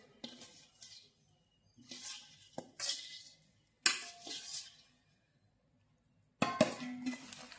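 Fish pieces get tossed with spices in a metal pot, producing intermittent wet squelches and clanking scrapes in several separate bursts with quiet gaps, close up and fairly soft.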